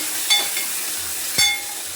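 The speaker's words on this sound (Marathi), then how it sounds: "आता ही फोडणी झाली चांगली" A gentle sizzle of spices in hot oil, with a couple of brief sharper crackles and a faint clink partway through.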